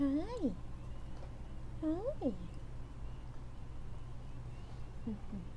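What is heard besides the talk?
cat meowing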